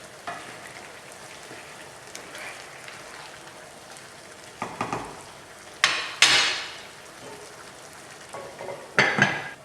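Tripe stew with sauce is stirred in a pot, with soft, wet scraping and sloshing under a low simmer. Sharper clatters of the spoon against the pot rise near the end.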